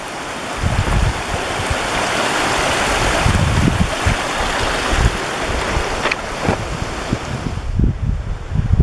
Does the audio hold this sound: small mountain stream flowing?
yes